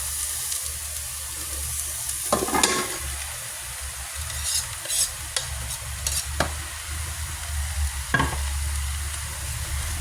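Bottle gourd (upo) sautéing with fish sauce in a pan gives a soft steady sizzle, broken by a few sharp clinks and scrapes of stirring against the pan.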